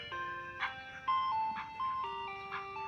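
A tinkling ice cream truck jingle plays a simple repeating melody, moderately loud and clear, with no one talking over it.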